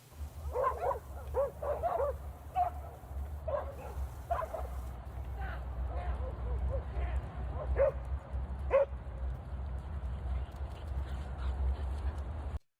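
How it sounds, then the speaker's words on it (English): A pack of dogs, including smaller ones, barks and yips in quick bursts over a steady low hum, the barking fairly close and lively, thinning out in the second half. "Oh, there are a bunch of smaller dogs"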